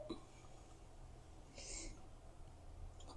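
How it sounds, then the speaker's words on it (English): A single faint hiccup sounds midway through a quiet room, with soft background noise around it. "I just have the hiccups."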